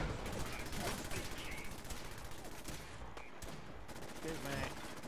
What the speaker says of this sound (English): Alright, now the cannon's ready for the broadside.